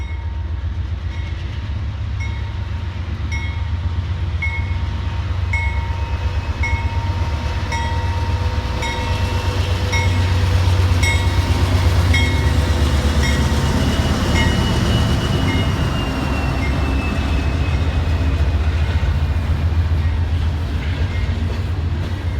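An empty Union Pacific coal train of hopper cars, stopped at an old depot for a crew change, rumbles loudly with steady low engine drone, periodic metallic clicks and a long squealing tone rising midway, no voices.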